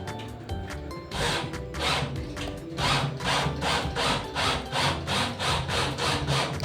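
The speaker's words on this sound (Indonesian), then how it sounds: "saya memilih opsional untuk menggunakan gergaji seperti ini, meskipun agak lama tapi hasilnya sangat maksimal" A hand saw cuts PVC ceiling trim with rhythmic back-and-forth strokes, a few short tentative ones first, then steady, evenly spaced rasping strokes close by.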